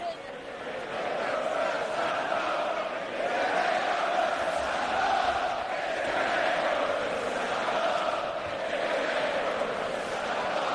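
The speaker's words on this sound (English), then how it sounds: "They're singing, stand up if you hate Roman" Large London wrestling crowd at Money in the Bank chanting in unison against Roman, a sustained, loud sung roar that swells and holds steadily for the whole stretch.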